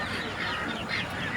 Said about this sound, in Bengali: 10টা হাঁসের বাচ্চা